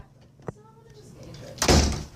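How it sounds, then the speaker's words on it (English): A door bangs shut with a loud, close slam and rattle near the end, following a faint knock and a brief voice. "Sorry, it was the door."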